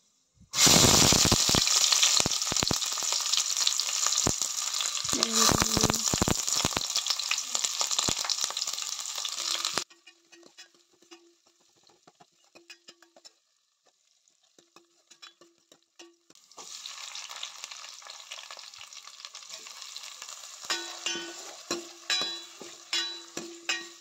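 Tomato saaru is being made in a home kitchen, with ingredients hitting hot oil in a loud, bright sizzle and crackle. The frying drops to near silence, then a softer sizzle returns with stirring clinks and scrapes.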